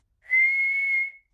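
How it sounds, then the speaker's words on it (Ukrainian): A cartoon pig character whistles a single steady note lasting about a second, clear and alone with no talking. "Джордж свистить."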